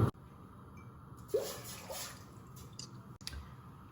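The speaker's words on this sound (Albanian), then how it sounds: "Tani do të vendosim tenxherën në zjarr dhe do të shtojmë këtu 3 gota me ujë" Three glasses of water poured from a glass into a cooking pot set on the stove for an instant eggplant pickle; a soft, steady splashing and trickling runs for a few seconds after a brief clink at the start.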